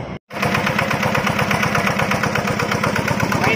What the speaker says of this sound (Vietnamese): Rồi đem nổ máy tới mấy cho anh em xem